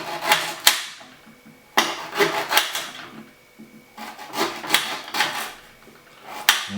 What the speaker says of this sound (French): Après, on découpe les gingembre.